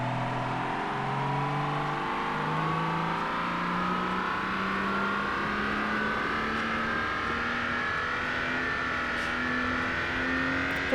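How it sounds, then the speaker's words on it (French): Car engine over-revving in BeamNG.drive, a sustained high whine whose pitch climbs slowly and steadily throughout, loud, close and uninterrupted, with no voices. "Comment ça, le moteur en sur-régime?"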